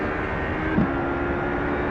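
A street stock car's engine in the iRacing sim at Charlotte drones steadily with a constant, even hum and no audible shifts or talk, the only sound throughout.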